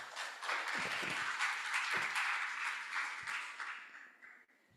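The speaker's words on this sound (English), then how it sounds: "Please give an applause." A brief round of applause from a conference audience at a medical sciences meeting, fairly distant and soft, with a few louder thumps mixed in before it dies away within about five seconds.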